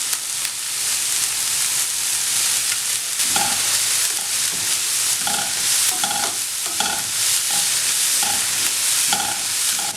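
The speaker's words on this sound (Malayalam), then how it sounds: "സവോള ഇവിടെ നന്നായിട്ട് വഴണ്ട് വന്നിട്ടുണ്ട്" Onions sautéing in a pan for Kerala restaurant-style chilli fish give off a steady close sizzle, with repeated scraping stirs and clinks of a spoon through the middle and end, no voices.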